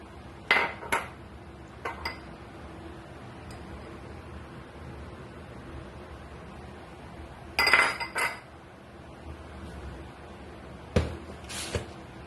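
Fish being rubbed by hand with turmeric, chili and salt for a fish-and-radish dish, heard as a few brief clinks of a dish and spoon with soft handling noises. Long quiet stretches separate the sounds, and no one speaks.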